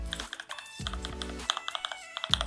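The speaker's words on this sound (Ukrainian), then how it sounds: "Завдяки їм клавіші тихо клікають." Soft, muffled key clicks on a Cougar Puri Mini RGB 60% mechanical keyboard with two layers of sound-dampening foam, a quick run of light taps with low thumps at intervals, close and fairly quiet.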